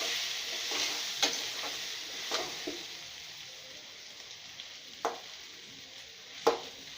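Pumpkin and paneer cooking in a pan give off a steady, soft sizzle while a spoon stirs and scrapes now and then, sharp taps and scrapes breaking through the quiet frying hiss.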